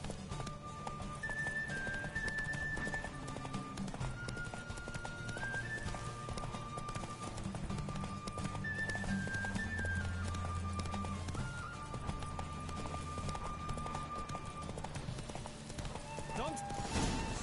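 Roach, a horse in The Witcher 3, gallops in a steady rapid clip-clop of hooves during a race, mixed with game music and an occasional whinny, with voices talking over it throughout.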